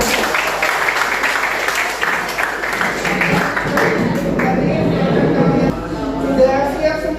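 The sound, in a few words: applause for the students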